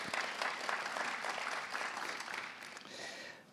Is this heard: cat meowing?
no